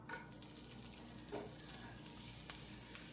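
Chopped onion and garlic frying in peanut oil in a pan for noodles, a faint, steady sizzle with a few soft stirring clicks and scrapes.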